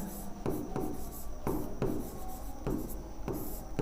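A pen scratches across paper during a math lesson, close and steady, with short strokes and pauses between words, over a low constant background hum.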